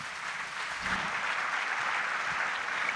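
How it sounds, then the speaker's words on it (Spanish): Audience applause at a Colombian public event on anti-corruption efforts, a steady dense wash of clapping that holds at an even level across the whole stretch with no voices over it. "Un aplauso para ellos, por favor."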